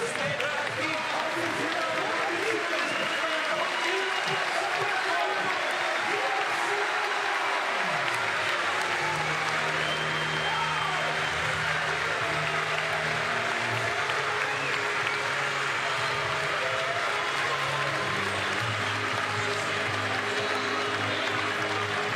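Spectators at the FIBA 3x3 World Tour basketball finals in Vienna in 2025 clap and cheer in sustained applause that carries on steadily for over twenty seconds, with voices mixed in beneath it.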